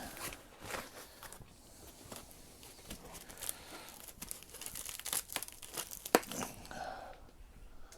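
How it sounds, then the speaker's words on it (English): Plastic wrapping crinkles and tears as new Kawasaki ZX-6R motorcycle fairings are pulled from their packaging, a close, irregular run of rustles and rips with a sharper crackle near the end. "Didn't want to unwrap it properly, but let's have a look."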